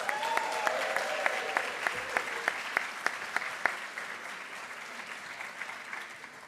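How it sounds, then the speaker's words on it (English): Audience applauding at a school district recognition celebration, as sustained crowd clapping with a few louder, sharp claps close by, then slowly thinning out. "let's give them another round of applause."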